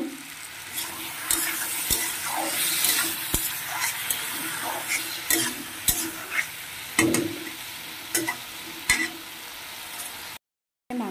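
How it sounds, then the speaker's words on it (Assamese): Potatoes fry for a meat curry with a low, steady sizzle, broken by sharp clicks and scrapes from stirring, with a brief gap near the end. "মাংসৰ কাৰণে আলু ভাজি আছোঁ"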